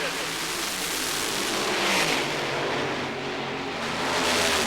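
Nitro funny car drag race run with Kenny Bernstein's Budweiser King car against Eric Reed: steady, loud engine roar that swells and holds across the clip, with commentary audible over it.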